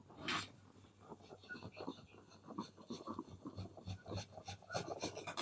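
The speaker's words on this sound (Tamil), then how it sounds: "இதை வந்து துருவி எடுத்துக்கலாம்." Boiled potato is grated by hand on a kitchen grater, giving a run of quick rasping scrape strokes in an uneven rhythm, close and fairly soft, with no talking.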